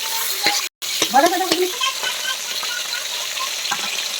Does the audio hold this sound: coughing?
no